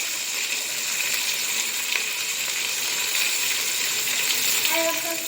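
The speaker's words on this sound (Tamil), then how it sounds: "சின்ன வெங்காயம் நல்லா வதங்கிட்டு இருக்கும்." Small onions sauté in a pan for a vegetable biryani, giving a steady, even sizzle that holds at one level throughout, with a few faint higher clinks near the end.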